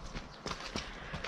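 A horse's hooves clip-clop at a steady walking rhythm on a stable trail ride, several soft, fairly close hoof strikes with no talking.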